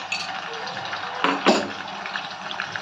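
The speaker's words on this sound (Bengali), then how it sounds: "এর মধ্যে আমি 1 চামচ এই হলুদ নুন গোলা জল আমি দিয়ে দেব" A spoonful of turmeric and salt water for banana chips is poured into a vessel, a short liquid splash rising around the middle of a continuous watery background.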